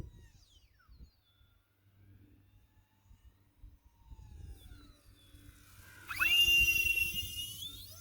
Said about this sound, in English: Worst part of this plane, hands down, the EDFs are loud.